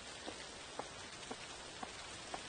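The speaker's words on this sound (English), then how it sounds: "Oh, it's just a raindrop." Steady rain falls in the horror video game The Caregiver, a constant soft patter with a few louder single drops landing at regular intervals, heard alone with no talking.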